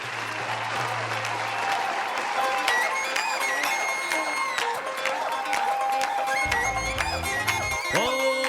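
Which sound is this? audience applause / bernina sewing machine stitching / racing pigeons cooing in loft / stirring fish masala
audience applause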